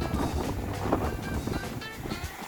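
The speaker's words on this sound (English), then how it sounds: "it's about 40-mile-an-hour winds out here" Strong wind of about 40 mph during a snowstorm on a farm with deep drifts, roaring and buffeting the microphone in a steady, loud, low rush throughout.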